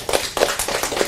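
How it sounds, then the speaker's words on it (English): A short burst of clapping from a small group, a few seconds of scattered, uneven hand claps at moderate volume. "Applause, thank you."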